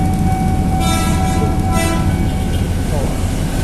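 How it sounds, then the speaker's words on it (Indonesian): A commuter train rolls through Manggarai station in Jakarta with a loud, steady rumble and sustained horn-like tones over a busy, noisy station background. "Kereta."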